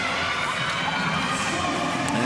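Teammates lining the side of a short track speed skating race cheer loudly, a dense, continuous wash of crowd shouting and cheering in an indoor rink.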